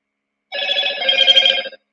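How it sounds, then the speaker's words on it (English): A mobile phone rings with a short electronic telephone-bell tone, lasting a little over a second, fairly loud and close, with no talking over it. "My phone gonna be going off because I just put the battery back in."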